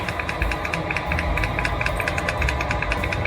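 A boat space heater's fan whirs and winds down with a steady mechanical hum and a faint rhythmic ticking, heard close up with no voices.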